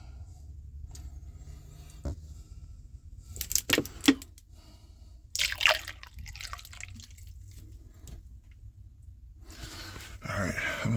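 Water poured slowly from a bottle to flush an air-conditioner drain line, quiet dripping and trickling interspersed with louder handling clatters and bursts of splashing, against a low steady hum.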